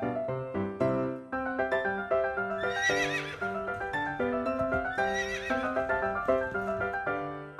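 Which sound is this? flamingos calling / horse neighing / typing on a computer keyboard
horse neighing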